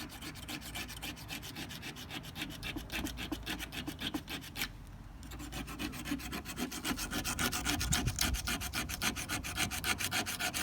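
A hard stainless steel cheese spreading knife blade stroked steadily across a sharpening stone, heard as rapid, even rasping strokes close up, with a brief pause midway, then continuing slightly louder, with no talk.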